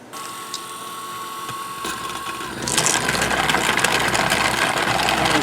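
A rock tumbler loaded with rough crystals runs steadily, a continuous churning, grinding rumble that swells louder partway through and then holds at a constant level with no talking.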